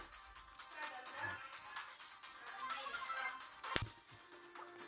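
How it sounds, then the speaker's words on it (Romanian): A telephone ringtone plays softly and steadily in a repeating pattern, with a sharp click near the end and low background noise. "sună la telefonul și cam nașpa"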